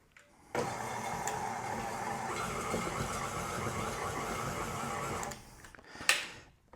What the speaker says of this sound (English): just give it one last mix until those are nicely distributed throughout the batter